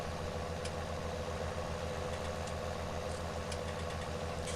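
Tractor engine in Farming Simulator 19 runs at a steady, low, throbbing idle-like rumble with a regular mechanical pulse and faint ticks on top, close and constant, with no voices.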